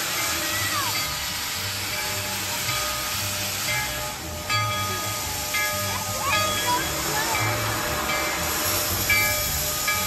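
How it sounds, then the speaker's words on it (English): A slow train passes in a steady, broad rumble and hiss with a faint rhythmic clatter underneath, with people talking nearby. "This train is really slow."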